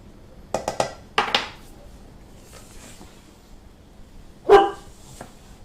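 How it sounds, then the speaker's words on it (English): A dog barks at patio doors, a cluster of sharp close barks early on, then a pause with faint household sounds before one last loud bark. "there's a strange dog looking at me"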